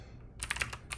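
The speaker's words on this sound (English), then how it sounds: "I can almost type" A computer keyboard being typed on in a short burst of a few close, quiet key clicks over a low background hum.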